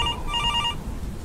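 Telephone ringing in the horror game Halloween 2 Asylum: an electronic trilling ring in two short bursts, then a low rumbling background.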